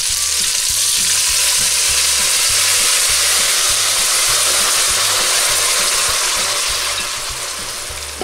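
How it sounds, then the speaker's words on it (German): A small splash of beef broth deglazing a hot pan for a lamb rosemary sauce, a loud, continuous close sizzle and hiss with a faint low rumble underneath, slowly easing toward the end, with no talking. "jetzt löschen wir mit dem kleinen Schluck Rinderbrühe ab"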